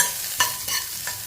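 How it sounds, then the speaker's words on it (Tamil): Light scraping and stirring in a hot pan as sliced onions are sautéed, with a few soft sizzling bursts as a spatula moves them around; no voices. "இதை வந்து நல்லா வதக்கி விட்டுக்குருவோம்."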